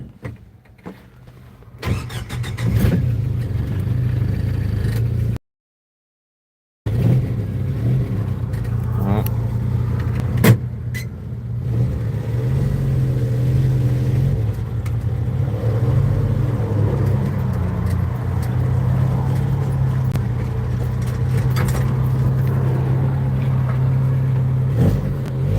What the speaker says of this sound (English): you're just gonna drive it here in the parking lot and see